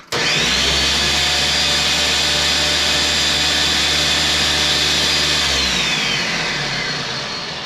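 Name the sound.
food processor pulsing to chop peppers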